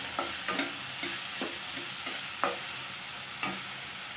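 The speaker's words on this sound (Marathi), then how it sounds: "टोमॅटो छान परतून घेऊया। त्यानंतर मी छोटासाच बटाटा घेतलेला तो घालून घेते।" Tomatoes and a small potato sautéing in a pan for sevai upma, with a spoon scraping and stirring in short strokes about once a second over a steady, soft sizzle.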